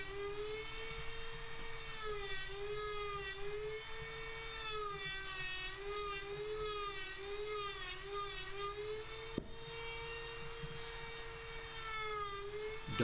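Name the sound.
carving tool cutting birch wood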